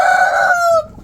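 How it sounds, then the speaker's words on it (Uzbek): A loud, close chicken call, one sustained, nasal, drawn-out squawk that ends abruptly, with no talking. "Sekin-sekin tuxumga kirishni ham boshlagan tovuqlarimiz."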